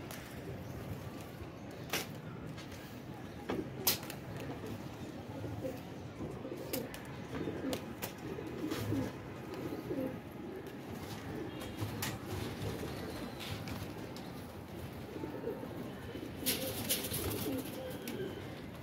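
A flock of racing pigeons out in the open, soft cooing and scattered calls with occasional bursts of wing flapping, faint and distant over a steady outdoor background.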